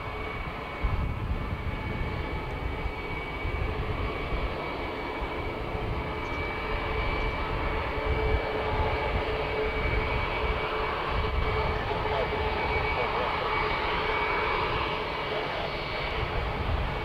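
An aircraft engine roars at London Luton airport, a broad, continuous, fairly loud rumble with a steady whine holding for the whole stretch and no voices over it.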